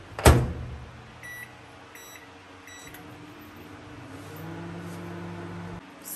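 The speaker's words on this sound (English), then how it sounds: "straight away go to the oven for" A microwave oven warms a cheese and egg croissant sandwich in a kitchen, with a loud thud at the start, a few short beeps, then a steady low hum running to the end.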